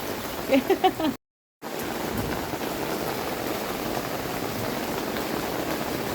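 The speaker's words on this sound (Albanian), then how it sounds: "Unë adhuroj kur bie shi." Steady rain hisses throughout, with brief voices early on and a short dropout of sound near the start.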